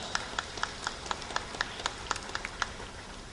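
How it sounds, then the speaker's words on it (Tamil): Faint, evenly spaced handclaps at a fifth-anniversary astrology function as a guest is garlanded, roughly four sharp claps per second over a soft background hiss, sounding thin and distant rather than like a large crowd. "பலத்த கைத்தட்டல்."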